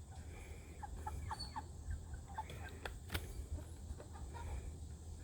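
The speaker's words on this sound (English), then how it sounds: "Elena's in there trying to catch these Cornish crosses." Cornish cross chickens being caught cluck and squawk faintly in a busy farm pen, with scattered short calls over a steady low background hum.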